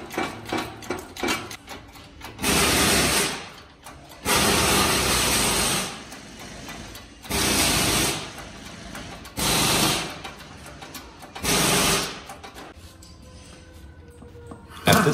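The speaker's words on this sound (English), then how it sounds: "Now watch closely as he operates the bearing press." A bearing press working on Chevy Colorado ZR2 differential bearings during a re-gear, heard as five loud, sustained mechanical whirring bursts of a couple of seconds each, separated by quieter pauses, with no talking.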